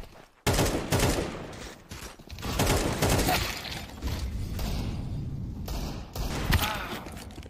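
Dense gunfire in Counter-Strike 2, sustained rapid bursts and shots filling the whole stretch, loud and close, with a brief quiet gap at the very start.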